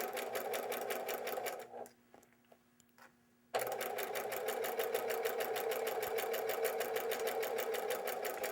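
A sewing machine runs a seam while piecing a quilt: a close, steady, fast whirring chatter that stops briefly for a couple of seconds, then resumes and continues evenly to the end.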